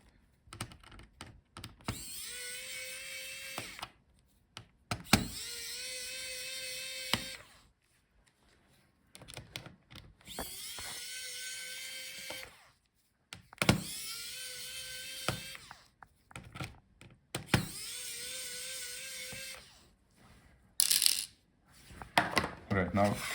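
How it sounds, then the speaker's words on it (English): Small electric screwdriver unscrews the hinge screws on an HP EliteBook 840 G10 laptop, whirring in several separate bursts of a few seconds each with quiet gaps between, close and moderately loud. "So unscrew the hinges."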